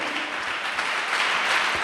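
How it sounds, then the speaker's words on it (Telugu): Church congregation clapping loudly in praise, a sustained, even roar of many hands with no break. "గట్టిగా చప్పట్లు కొట్టండి."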